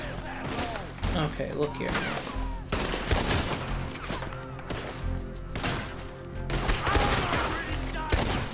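Repeated rifle shots and other gunfire crack through a Red Dead Redemption 2 firefight, uneven bursts over game ambience, while someone talks briefly over the action.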